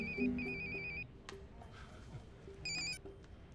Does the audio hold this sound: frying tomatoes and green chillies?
no